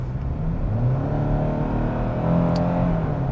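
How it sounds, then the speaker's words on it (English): A 2022 Hyundai Tucson's four-cylinder engine hums while driving, a steady, moderately loud drone with slight rises in pitch as it accelerates, heard from inside the car. "It's a 4-cylinder. Of course, you guys know 4-cylinders do not sound the best"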